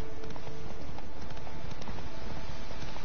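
Horse hooves clip-clop in The Witcher 3 video game, a steady rapid patter of hoofbeats on ground, loud and continuous alongside ambient game sound.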